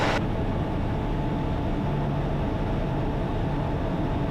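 A small airplane's engine drones in a steady hum, running continuously at even loudness, close and unchanging, with no voices.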